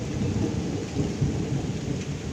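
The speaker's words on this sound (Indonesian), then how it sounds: "Hujan banyak gugur lagi." Heavy rain pours down steadily outdoors by a lotus pond during eel fishing, a dense, loud, continuous roar of drops with a low rumbling undertone throughout.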